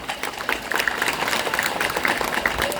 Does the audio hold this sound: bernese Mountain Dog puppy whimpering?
no